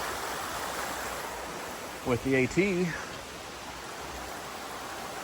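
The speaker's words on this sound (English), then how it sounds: "That's Cascade Brook that I crossed earlier." Cascade Brook, a mountain stream in the White Mountains, rushes in a steady broadband wash heard nearby, with a brief spoken phrase over it partway through.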